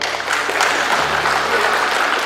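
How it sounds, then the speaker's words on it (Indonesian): Brief, dense applause from an audience at a government meeting of office and district social media staff, a continuous patter of clapping lasting a couple of seconds. "Tepuk tangan dulu."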